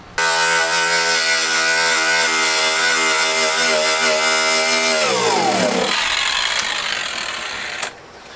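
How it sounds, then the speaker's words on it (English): A wire wheel on a power tool spins at a steady high whine against tar on a car floor, loud and sustained, then winds down in pitch after about five seconds into a softer scraping hiss. "I'm gonna try out this wire wheel thing, go to town with that, see how much of this tar stuff I can get up"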